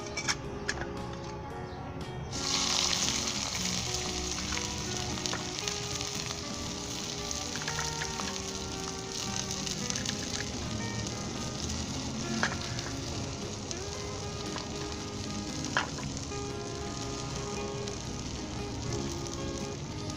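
Onions browning in a pan for Punjabi kadhi pakora give off a steady, dense sizzle that starts after a brief quiet moment and carries on evenly with no talking.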